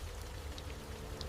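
Heavy rain falls in the Sundarbans mangrove forest, a dense steady patter of drops with a low rumble underneath, brief and continuous with no voices.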